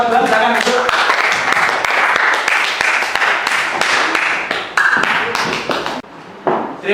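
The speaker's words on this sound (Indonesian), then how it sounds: "tepuk tangan untuk kelompok 2, silakan masuk" Classroom applause for a student group during a teaching practice lesson, with sharp, uneven hand claps, some loud and close, mixed with talking and dropping off toward the end.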